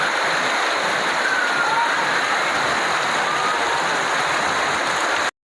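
Steady heavy rain falls as a continuous dense hiss, close and loud throughout with no pauses, over an outdoor cooking scene where fish and chicken are being prepared.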